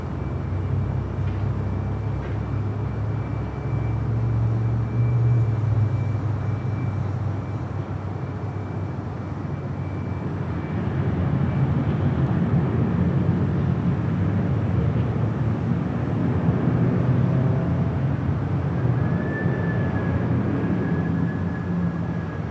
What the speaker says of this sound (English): FedEx 767-300 freighter, next arrival